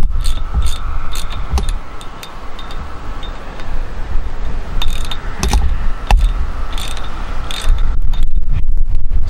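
Ratchet tightening on a barbed wire fence brace, with repeated quick clicking bursts of the pawl close up over an outdoor background of steady insect chirping.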